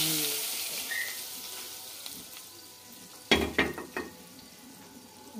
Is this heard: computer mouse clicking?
no